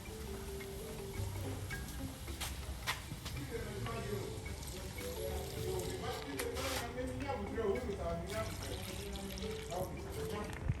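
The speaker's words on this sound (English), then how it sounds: "I'm gonna put water." Water poured into a pot of stiff banku over an outdoor fire in Ghana, a steady liquid pour and trickle running through the clip amid cooking clatter, with people talking throughout.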